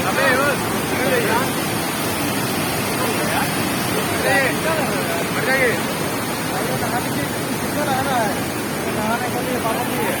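Rushing water roars steadily at Devdari Rajdari waterfalls, a constant broadband wash with wind buffeting the microphone, while people talk over it throughout.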